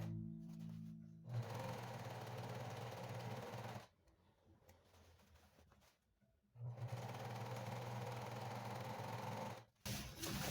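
Sewing machine running steadily while stitching the side seam of capri trousers, with a continuous close whirring for a few seconds, a pause, then another long steady run.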